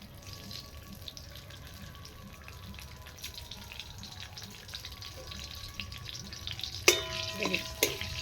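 Bay leaves and five-spice fry in oil with a faint, steady sizzle that grows slightly louder toward the end, where a few sharp clinks of a utensil sound.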